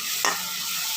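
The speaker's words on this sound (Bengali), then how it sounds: "শস্য বাটাটা এবার দিয়ে দিয়েছি, একটু নাড়ি দেবো।" Mustard paste being stirred into fried potatoes in a pan, a single quick scrape of the spatula over a steady background sizzle, close and without talking.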